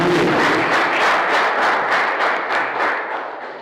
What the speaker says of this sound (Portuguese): Vamos aplaudir nosso Deus.